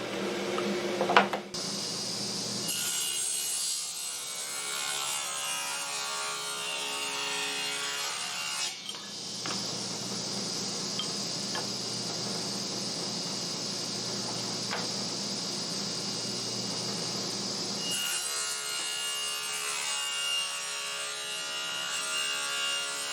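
A band saw rips through an old piece of hardwood, cutting it into half-inch square stock. The steady whining cut runs loud and close for most of the span, stopping briefly in the middle before starting up again.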